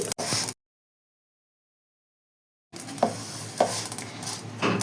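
Gobindobhog rice coated with ghee is stirred in a pan, giving soft scraping and rustling with a couple of brief spoon knocks; close and moderate, after a short burst and a silent gap.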